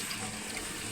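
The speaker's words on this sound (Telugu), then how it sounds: "ఇప్పుడు మనం వాటర్ యాడ్ చేస్తుంది." Water pours steadily into a cooking pot, probably a pressure cooker, a continuous close splashing gush that fills the whole moment without talk.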